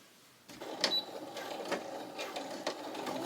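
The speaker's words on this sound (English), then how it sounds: "So I'm gonna sew these on and then do the rest of the patches." A sewing machine stitches letter patches onto a dress, running in short, quiet bursts with faint mechanical clicks and whirring close by in a calm room.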